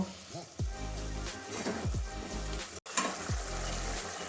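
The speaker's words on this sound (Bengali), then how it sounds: "এবারে এটাও কষাতে থাকবো, যতক্ষণ মানে তেল ছাড়ছে না ততক্ষণ কষাবো।" Coriander leaf paste fries in oil in a pan for Bengali dhaniya katla, a soft, steady sizzle broken by brief clinks and scrapes of stirring, with a short gap partway through.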